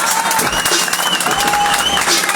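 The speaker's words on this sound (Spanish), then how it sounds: "un aplauso para ustedes" Young people at a gathering in Cartagena applaud and cheer loudly and close by, with whoops and voices mixed into the brief burst of clapping.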